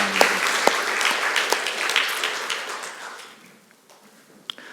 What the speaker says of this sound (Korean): 우리가 다시 한번 하나님 앞에 감사의 박수 올려드립니다